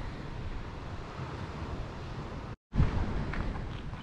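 Waves wash onto a winter beach at Beldibi near Kemer, Turkey, a steady broadband surf roar with wind buffeting the microphone, broken by a brief dropout before the noise resumes.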